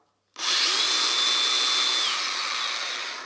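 A DeWalt cordless angle grinder spins up abruptly and runs at a steady high-pitched whine, loud and close, holding evenly for a few seconds with no talking.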